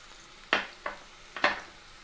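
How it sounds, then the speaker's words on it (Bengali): Chopped capsicum for bread Manchurian is stirred in a hot pan. Three or four short scraping, sizzling strokes land close and clear over a faint background hiss, with no voices. "ক্যাপসিকামটাও আমরা খুব সুন্দর করে নাড়াচাড়া করে নেব"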